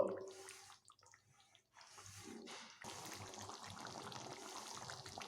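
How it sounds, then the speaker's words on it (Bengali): Papaya and potato curry bubbling in a pot for a vegetarian dalna, a soft watery simmer with gentle pops and burbles that steadies into a continuous moderate bubbling hiss. "এটিকে আর দু মিনিট এইভাবে ফুটিয়ে নেব"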